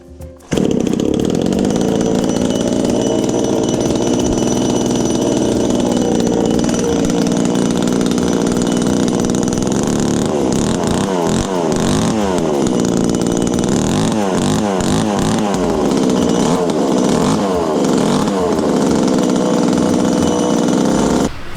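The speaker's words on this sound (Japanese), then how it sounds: "ちゃんと動くかどうかね、もう一回エンジンかけていきたいと思います。" The small engine of a Yanmar self-propelled hydraulic dump carrier roars loud and close throughout, its pitch wavering and revving up and down in repeated bursts.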